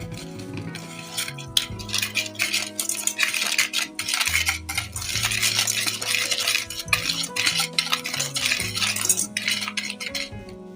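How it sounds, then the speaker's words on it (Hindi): Milk being stirred into homemade chocolate syrup in a metal pot, a steady scraping and clinking of a utensil against the pot, close and fairly loud, with a sustained musical tone running underneath and no talking. "इसको हम थोड़ा थोड़ा डाल के इसको मिक्स करते जाएंगे।"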